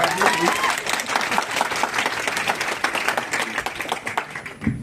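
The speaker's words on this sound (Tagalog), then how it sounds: "Ang hina daw ng palakpak, ulitin natin." An audience at a short film festival awards night claps in sustained, dense applause that fills the room, loud and close, with crowd murmur mixed in.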